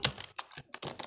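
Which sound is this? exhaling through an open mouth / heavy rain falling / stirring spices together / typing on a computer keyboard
typing on a computer keyboard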